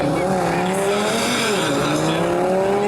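At a quarter-mile drag race in Mielec, a powerful car launches with a loud rising engine roar and squealing tyres fighting for grip, continuous and close, with a commentator talking over it.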